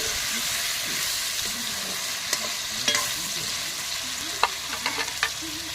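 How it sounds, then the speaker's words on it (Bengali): Cut potatoes fry in a pan with an even, moderately quiet sizzle, broken by a few sharp stirring taps and scrapes toward the end, with no speech. "কত সুন্দর কিন্তু আমি আলুটা ভাজছি"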